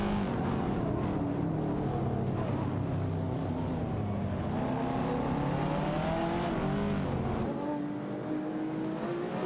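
Race car engines from an AI racing video game, a Lamborghini Murcielago SV and a Mosler, drone and whine continuously with rising and falling pitch as cars battle closely, loud and steady throughout.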